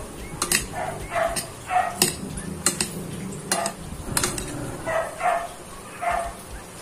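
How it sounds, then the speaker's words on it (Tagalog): Ingredients for dinakdakan are stirred together in a bowl, with scraping and clinking utensil strokes in an uneven rhythm, while a dog barks several times in the background. "mix na natin para magtantay ang lasa."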